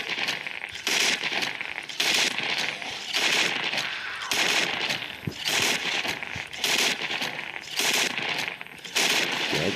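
Assault rifle fire in the zombie shooter game Into the Dead 2: loud, dense bursts of rapid automatic gunfire, repeated several times with brief gaps, close and harsh.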